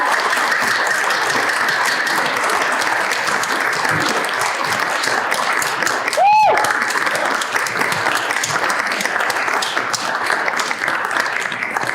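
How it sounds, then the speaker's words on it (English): Steady, dense applause fills an awards banquet room from start to finish, a continuous wash of many hands clapping, with a brief whistle-like tone cutting through midway. "So let's give her a round of applause, Madison Brown."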